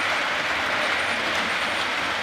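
A train runs along a railway, producing a loud, steady, broadband rumble and rushing noise that holds constant throughout with no voices.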